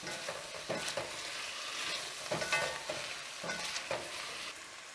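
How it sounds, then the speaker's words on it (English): Garlic sautéing in a hot pan gives a steady sizzle, broken by the repeated scrape and clatter of stirring at an uneven rhythm, close and moderately loud, with no talking. "And then after 30 seconds of sauteing the garlic"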